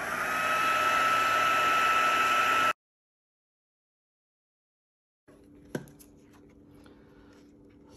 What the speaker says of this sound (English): So we're going to heat emboss this